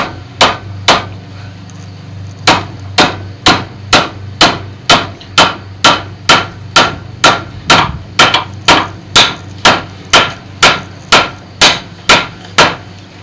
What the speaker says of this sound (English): just hammer it in, just like so